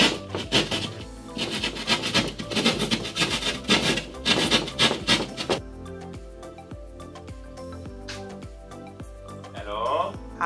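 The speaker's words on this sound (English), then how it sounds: "Although it looks like a B-rated horror movie murder weapon, this is actually a drywall saw." A drywall saw cuts through drywall in a rapid, rough rasping rhythm of close strokes for about five seconds, then gives way to quieter scraping and handling noises with some talk.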